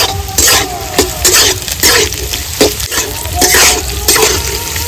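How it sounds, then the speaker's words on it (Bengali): Chopped carrots and beans fry in a pan, giving a steady close sizzle with repeated scraping stirs over it. "এটা আমি 2 থেকে 3 মিনিট একটু ভেজে নেবো ভালো করে।"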